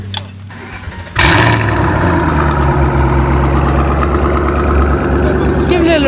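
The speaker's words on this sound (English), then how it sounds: "We running the boiler catback exhaust." A car engine fitted with a catback exhaust bursts to life and then holds a loud, steady, rumbling idle that fills the rest of the stretch, with a brief high squeal near the end.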